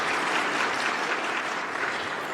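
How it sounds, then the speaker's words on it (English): Dense, steady applause from many people fills the UN General Assembly room at a forum on minority issues, holding at an even level without a break. "Sorry, no applause in the room."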